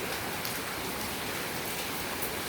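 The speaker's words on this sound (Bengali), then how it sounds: "কি সুন্দর বৃষ্টি আসেন বৃষ্টি উপভোগ করি" Steady, even rain falls and patters on surfaces in a continuous hiss at a constant level, with no voices.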